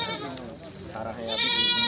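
Goats bleat close by amid a busy crowd at the Surewala goat market in Punjab, their wavering cries mixing with voices and background chatter.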